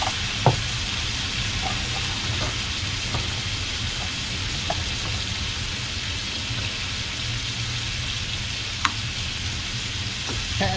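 Shrimp frying in a hot pan give off a steady, loud sizzle with soft crackles and occasional sharp pops, alone with no voices.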